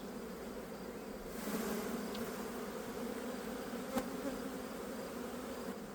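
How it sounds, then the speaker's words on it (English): A steady, soft drone of honeybees leaving a hive entrance, close and continuous, with a slight swell after the first second and no voices. "so bees are exiting over here"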